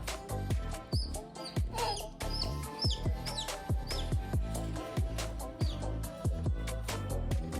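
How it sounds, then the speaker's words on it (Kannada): Many chickens cluck and chirp around a village home, a busy, overlapping stream of short calls with sharp knocks throughout, fairly close. "ಎಷ್ಟೊಂದಿದೆ ಅಲ್ಲ ಕೋಳಿ?"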